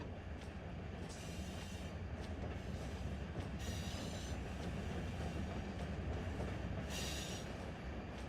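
Freight train cars, tankers and boxcars, rolling in a Run 8 rail yard simulation with ATSF equipment: steady loud wheel rumble and rail noise with bursts of high wheel squeal, no talk.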